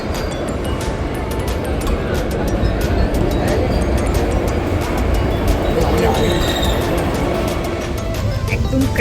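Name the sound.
Vande Bharat express train departing and running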